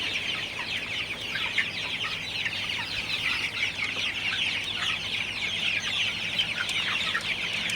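Chickens in a poultry house cluck and chatter continuously at moderate distance, many birds overlapping into a dense, steady flock sound with no talking.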